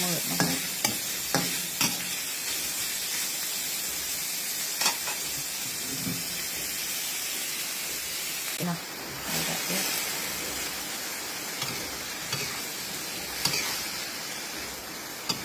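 Water lily stems stir-fry in a hot pan, a steady loud sizzle and hiss broken by repeated scraping stirs of the spatula, close up and continuous.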